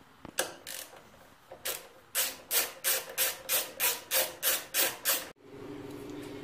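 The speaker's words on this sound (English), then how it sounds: "The next step after the seat's removed is we'll remove the gas tank bolts." A ratchet wrench with a 13mm socket loosening gas tank bolts on an Indian Scout motorcycle, about a dozen evenly spaced clicking strokes up close, followed by a steady hum.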